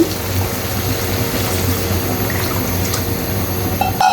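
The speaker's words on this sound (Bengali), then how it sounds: "পানিটুকু দিয়ে দিচ্ছি" Hot water poured into goat meat cooking in a pot for a village-style curry: a steady, close rushing and bubbling of liquid for about four seconds, ending in a brief clatter.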